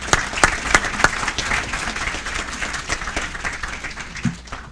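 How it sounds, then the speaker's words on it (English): An audience applauds a speaker, with a steady wash of many hands clapping and a few louder nearby claps in the first seconds before the sound thins out. "How about a round of applause for Mr."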